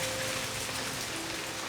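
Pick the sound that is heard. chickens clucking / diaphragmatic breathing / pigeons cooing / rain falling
rain falling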